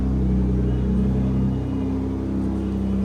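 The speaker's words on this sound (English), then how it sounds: "They just turned on the GTR." Nissan GT-R engine idling with a deep, steady rumble at a car meet, close and loud, holding an even drone with no speech over it.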